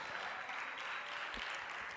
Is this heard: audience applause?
yes